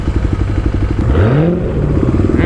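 A Kawasaki KLX351 dirt bike with its secondary throttle plate removed idles with a raised, steady mechanical chatter, rising briefly in pitch before settling, loud and close.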